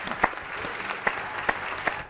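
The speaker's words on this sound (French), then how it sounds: "Applaudissements pour mes deux invités." Studio audience of a French TV show applauds its two guests, a short burst of brisk clapping with a few sharper individual claps standing out.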